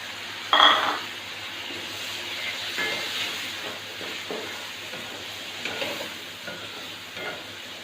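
A quarter kilo of tomatoes hits a hot pan of frying chili and turmeric for masala bhindi. A sharp hiss flares up, then settles into a steady, low sizzle with faint stirring and scraping. No one talks.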